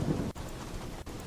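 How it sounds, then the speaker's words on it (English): Heavy storm with steady rain pouring down and a low rumble of thunder underneath, a continuous dense wash broken by two brief dips, with no voices. "We need to get a storm sound effect."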